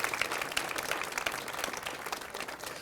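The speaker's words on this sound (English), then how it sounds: "Give them some applause." An audience at a ribbon cutting for a new 50+ center claps steadily, a dense patter of many hands at moderate distance without speech over it.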